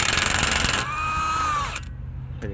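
A power tool whirs and ratchets hard as it loosens the 32mm CV axle nut on a Mazda CX-5 with the wheel off. A loud, steady mechanical buzz is followed by a falling whine as it spins down, then a short metallic clink.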